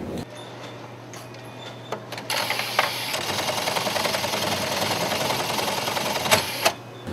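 Sewing machine running steadily in a custom tailor shop, stitching suit parts such as pockets, linings and lapels, a continuous mechanical whir with a few clicks and knocks from the workroom.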